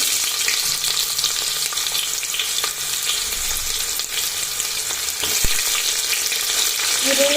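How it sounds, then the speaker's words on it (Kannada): Whole spices such as cinnamon, cloves and peppercorns fry in oil in a pan with a steady, close sizzle and scattered crackles and light stirring clicks, with no speech. "ನಾನಿಲ್ಲಿ ಪಾನ್ ಮಸಾಲ, ಚಕ್ಕೆ, ಲವಂಗ, ಕಾಳು ಮೆಣಸನ್ನು ಹಾಕೋತಿದ್ದೀನಿ."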